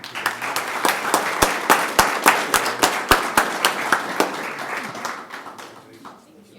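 Applause at a county board meeting: a scatter of individual hand claps, fairly close and moderately loud, thinning out and fading toward the end.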